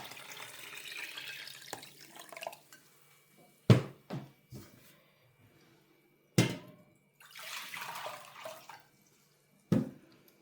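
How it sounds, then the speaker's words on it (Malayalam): Boiled, cooled water pours in short streams into a pot for grape wine, with splashy gushes and a few heavy thuds between pauses. "ഞാൻ തിളപ്പിച്ച ആറി വെള്ളമാണ് അതിലോട്ട് ഒഴിച്ചേക്കുന്നത് ഇപ്പോൾ"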